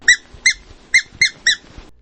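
Five sharp, high squeaks from a squeezed rubber squeaky toy come in a loose rhythm, close and loud, with little else around them.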